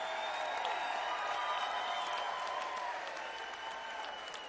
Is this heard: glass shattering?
no